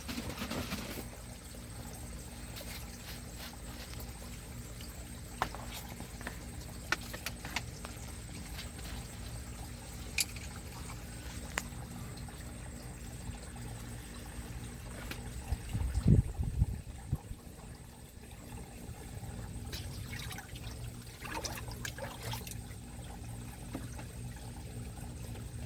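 Water and hydroponic nutrient solution slosh and swirl as they are shaken in a container, a low, irregular churning with occasional knocks, one louder surge midway, and no talking.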